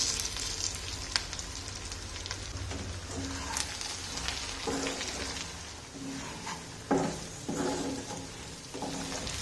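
Chicken frying with ground masala in an iron pan, a steady close sizzle with scattered crackles and occasional stirring scrapes throughout.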